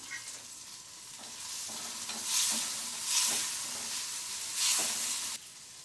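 Tamarind and other chutney ingredients sauté in a pan for sundakkai thovayal, a close, steady sizzle with three louder stirring surges, cutting off abruptly near the end.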